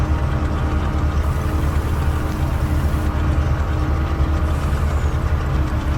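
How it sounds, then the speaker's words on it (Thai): A six-wheel truck engine revving in the video game Farming Simulator 19, a continuous loud low-pitched engine drone that stays steady and close the whole time, with no talk over it. "แรงแต่ท่อจริงเลยรถคันนี้"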